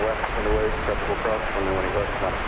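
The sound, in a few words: American Airlines jet airliner at DFW airport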